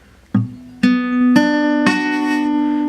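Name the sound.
guitar chord sounding poorly from too little finger pressure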